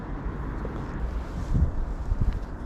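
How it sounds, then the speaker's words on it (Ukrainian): Steady wind rumbles and buffets against the microphone, with a few stronger gusts swelling near the end. "О, як вітер подув"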